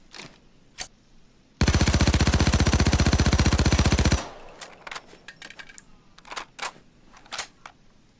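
FN P90 submachine gun (Kobus 90) in the video game Payday 2 fires one sustained, loud automatic burst of about two and a half seconds, framed before and after by scattered clicks and soft handling noises.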